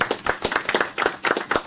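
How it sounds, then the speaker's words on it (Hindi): An audience at a children's quiz competition claps for a young girl, with brisk, closely spaced hand claps in a fairly near, loud, rhythmic burst that carries no talk. "इस प्यारी सी बच्ची के लिए प्यारी सी तालियां"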